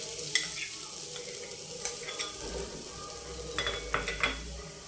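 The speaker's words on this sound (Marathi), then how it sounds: "आता यामध्ये मी तुपात खवळलेलं नारळ टाकलेलं आहे" Grated coconut sizzles and fries in hot ghee in a pan, a soft steady hiss broken by light scraping and stirring clicks of a utensil against the metal, fairly close and alone.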